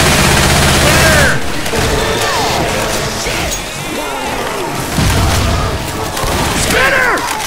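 Dense gunfire in Left 4 Dead 2 on The Parish waterfront: loud, continuous overlapping shots and crashing impacts fill the whole stretch, with voices calling out underneath.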